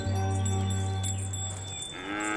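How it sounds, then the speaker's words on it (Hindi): A water buffalo gives a long, loud, deep moo that holds steady for nearly two seconds and then trails off into a fainter, higher tail, heard close and with no talk. "अरे ये तो सिर्फ भैंस है, बफेलो।"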